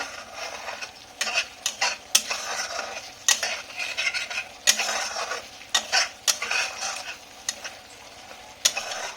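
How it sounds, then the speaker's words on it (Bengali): Spice paste for egg rezala is stir-fried in a pan, with a soft continuous sizzle under sharp, irregular scrapes and knocks of a spatula against the metal, close and alone. "আমি এটা ভেজে নিচ্ছি, ভালো করে কষিয়ে নিচ্ছি"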